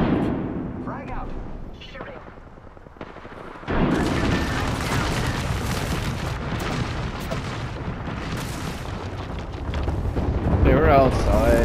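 Frag grenade explosion in Apex Legends: a sudden loud boom partway through cuts in over quieter gunfire and rumbling, followed by sustained heavy blasts and shooting, with voices talking in the mix.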